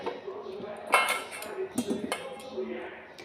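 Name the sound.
cut potatoes being added to a cooking pot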